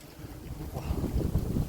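Strong wind gusts buffet the microphone outdoors, a low rumbling roar that swells and grows louder toward the end, with no talking.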